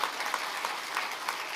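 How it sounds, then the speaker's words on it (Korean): Brief, moderate applause from a church congregation during a Sunday morning worship service, a dense wash of clapping with a few sharper individual claps standing out. "우리 격려의 박수 한번 해주시면"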